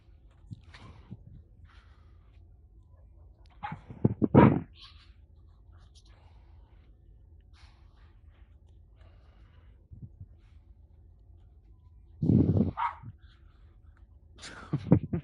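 A dog indoors gives a few short barks and snorts in two brief bursts between quiet stretches, fairly close and moderately loud, with faint low background sound.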